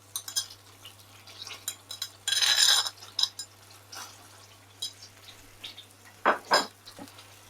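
Sauce returned to a pan for chicken Vesuvio, a crispy garlic and lemon chicken dish, lands with a wet sizzling burst followed by scattered clinks and scrapes of cookware, close and fairly quiet, with no talking.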